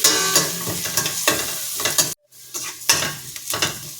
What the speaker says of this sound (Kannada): ನೋಡಿ ಇಲ್ಲಿ ಈರುಳ್ಳಿ ಫುಲ್ ಕೆಂಪಾಗಿದೆ ಈ ಥರ ಆಗಬೇಕು